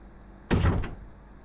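A door opens in the survival horror video game Resident Evil, a single dull heavy thud and scrape lasting under half a second over a low steady background hum.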